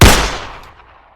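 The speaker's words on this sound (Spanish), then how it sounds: "se escuchó un disparo" A single loud gunshot sound effect, a sharp close blast with a booming low thump that decays into a fading echo over about a second.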